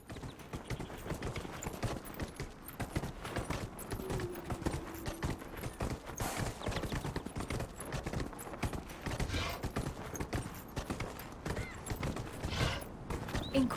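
Horse hooves clip-clopping steadily through Dragon Age: Inquisition's Hinterlands, a continuous, even trot held close and moderately loud for the whole stretch, with faint background game ambience.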